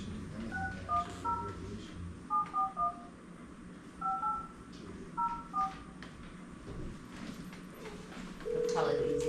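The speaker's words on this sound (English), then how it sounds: "just dial and then hit the green button." Telephone keypad tones beep in short separate presses, some in quick pairs and triples, on a phone in a meeting room, with people talking quietly underneath and a steady tone near the end.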